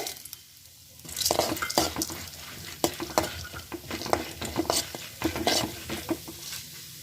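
Chana dal fries in a little oil left in the pan after frying pirandai. A spatula stirs it in repeated close scraping strokes over a light sizzle.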